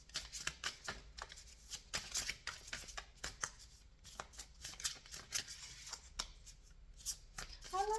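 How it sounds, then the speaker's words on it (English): Repeated riffling and flicking of cards being shuffled, crisp bursts coming in quick irregular runs throughout, close and moderately quiet with no talking. "I love to shuffle and wait for the card to pop out"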